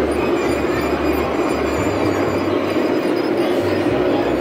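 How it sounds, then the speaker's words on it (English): At an outdoor garden train show, a model train runs with a continuous low rumble and hum, steady and fairly close throughout. "I think I remember this train."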